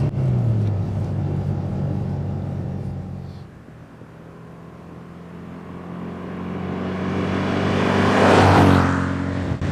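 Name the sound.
Rover P6 2000TC engine while driving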